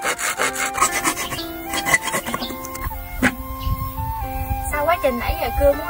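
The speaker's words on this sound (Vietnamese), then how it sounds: "Mới đầu mình tưởng là nó sẽ cứng khó cưa lắm, mà chịu khó cưa một xíu là được à" A hand saw cuts through a bamboo tube in steady back-and-forth rasping strokes, close and fairly loud, while people talk over it.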